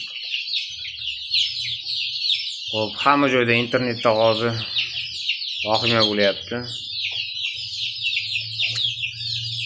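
A crowd of black chicks for sale in Andijan peeps and chirps constantly, with deeper clucking underneath, while someone talks over the birds.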